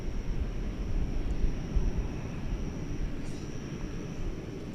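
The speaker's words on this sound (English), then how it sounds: "the big jet now crossing over 18 left" A big jet taxis across runway 18 Left at DFW Airport at night, a steady low engine rumble that stays moderate and distant, with no voices.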